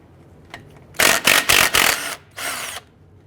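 An 8mm bolt comes off the radiator of a 1999-2004 Jeep Grand Cherokee 4.7L V8 in several close, loud whirring bursts from a tool, with short pauses between them and a faint tap beforehand.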